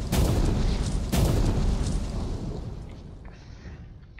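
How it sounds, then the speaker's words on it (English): Dreamite charges explode on a hill in the mining game Out of Ore, two heavy booms about a second apart, each followed by a long rumbling decay that fades out. "I've laid out 10 bits of Dreamite on this hill, and yeah, let's have some fireworks for the season."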